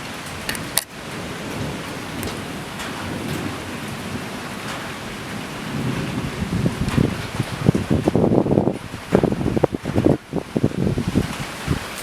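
Severe rotating thunderstorm outdoors with a loud crack of thunder early on, then a steady roar of rain and gusting wind that swells into heavy rushing bursts and rustling, close and intense, with no talk.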